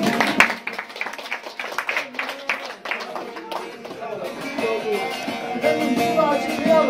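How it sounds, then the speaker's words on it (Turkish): An audience claps for a Turkish folk minstrel at a poets' duel, scattered hand claps building into applause over several seconds, mixed with voices talking nearby. "Alkışlayalım hocamızı."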